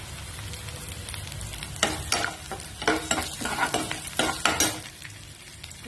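Cumin seeds fry and sizzle in a pan for a cluster bean curry, a soft steady hiss broken by a string of sharper stirring scrapes and crackles, with no talk.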